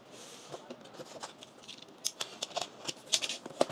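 A Microlab speaker box's sticker seal being cut, giving faint, quick snipping and crinkling sounds at close range.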